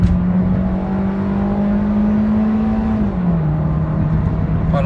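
A Honda City on 17-inch wheels, fitted with an aftermarket ECU box and a single-box exhaust, accelerates with a steady close engine drone that rises slightly and then drops as it shifts, continuous and loud with no talk.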